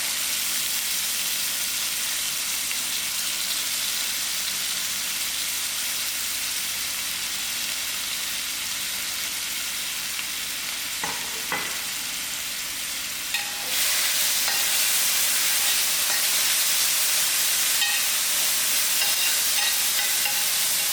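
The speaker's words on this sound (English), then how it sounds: "while my margarine is melting, I'm going to put in my onions" Onions sizzle steadily in melting margarine in a pan, a close, continuous hiss of frying that briefly knocks and then grows brighter and louder.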